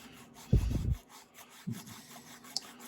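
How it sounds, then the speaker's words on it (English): Masking tape is burnished onto the roof of a fastback car, with two short, quiet rubbing strokes close by, the first longer than the second. "now I'm just carefully burnishing this back further to the back of the fastback"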